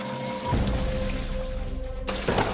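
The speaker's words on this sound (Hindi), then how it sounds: "मूसलाधार बारिश शुरू हो गई। बारिश इतनी तेज थी कि सामने खड़ा पेड़ भी मुश्किल से दिखाई दे रहा था।" Torrential rain pours down in a steady, dense hiss that fills the whole stretch, with a faint sustained tone underneath and a brief break near the end.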